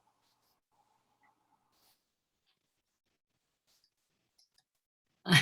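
A mouse click as a participant turns on their video during an online panel, a single sharp, close, fairly loud click near the end after near silence.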